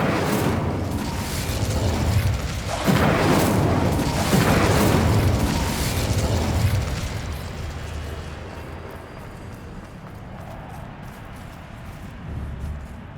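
Incendio fire spell cast in Hogwarts Legacy: a loud roaring whoosh of flame with booming bursts that fades over several seconds into a low rumble.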